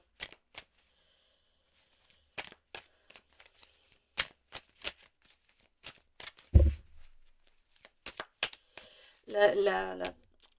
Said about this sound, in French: on va aller voir avec le tarot ce qu'on nous dit de plus